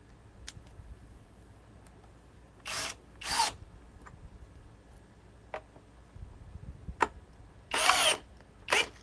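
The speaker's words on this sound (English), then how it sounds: "Okay, we got the FX 1231 compact hammer drill." FX 1231 compact hammer drill running in short bursts into real wood, several brief whirring pulses with pauses between them, close and moderately loud against a quiet background.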